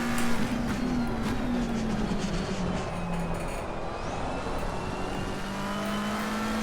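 Race car in Assetto Corsa Competizione held at full throttle through Ascari at Monza, engine droning loud and steady with a slight pitch dip and recovery, no voices.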